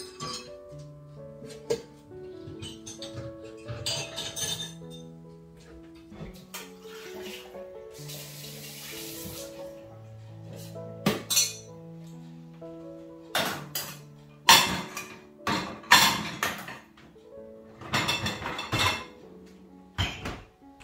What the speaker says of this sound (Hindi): दोपहर के बर्तन भी एज इट इज रखे हुए थे, इनको मैं डिश वॉशर में लोड कर दूंगी।